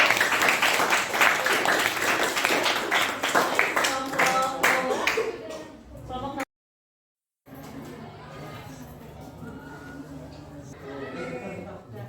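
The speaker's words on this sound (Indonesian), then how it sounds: "Tepuk tangan ya buat Bapak Ibu" Classroom applause for the teachers, a burst of many hands clapping over the first few seconds that fades into a pause, followed by quieter room murmur and a voice speaking.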